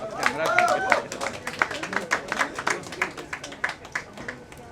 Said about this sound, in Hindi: तालियां भी बजा दीजिए साथ में